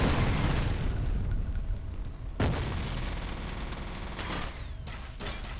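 Rapid, dense gunfire in the first-person shooter F.E.A.R., with enemy soldiers firing nail-gun weapons, loud and continuous, with sharp bursts and impacts standing out near the middle and end.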